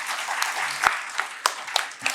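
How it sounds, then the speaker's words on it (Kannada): An audience at a Kannada literary talk gives scattered applause, a handful of distinct, sharp claps spaced out over a soft background rather than a full ovation. "ಅದಕ್ಕೊಂದು ದೊಡ್ಡ ಚಪ್ಪಾಳೆ ಬರಲಿ"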